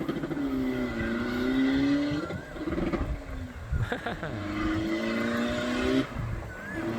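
A remapped Chevrolet pickup engine accelerates hard through two strong rising pulls, loud and close with a rough roar and a brief dip between them.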